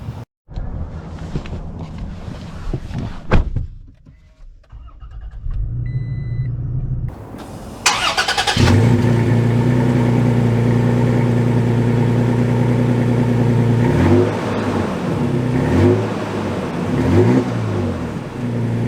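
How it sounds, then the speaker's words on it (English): A 2023 Toyota Tacoma Trail Edition pickup starts and pulls away, its mid-pitched engine humming steadily close by and rising and falling in pitch as it accelerates, following a few mechanical clunks. "So setting off here in the Toyota Tacoma Trail Edition"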